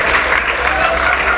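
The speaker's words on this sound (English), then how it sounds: "we have to give a special round of applause to the best player of the night" Audience applause at a StarCraft tournament evening at a tech conference, a dense steady clatter of many hands clapping together, loud and close, with no talk over it.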